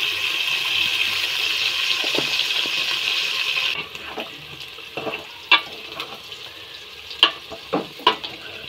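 Chicken pieces frying in a pan with salt, a strong hiss at first that drops to a softer sizzle, followed by several sharp clanks and scrapes of stirring.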